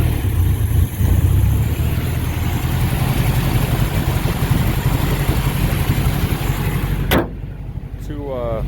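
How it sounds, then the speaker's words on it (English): A 1989 Dodge Raider's carbureted engine runs with the choke plates held nearly shut to fight a lean condition. The loud, steady, close-up drone holds for about seven seconds, then cuts off abruptly, leaving a quieter tail. "I have to have the choke plates basically shut for it to even want to idle or run right."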